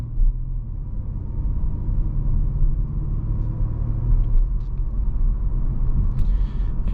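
A 2023 Audi A5 Sportback 45 Prestige takes a tight, uphill-curving road corner at about 30 mph, giving a steady low rumble of engine and road noise from inside the cabin, with no one talking.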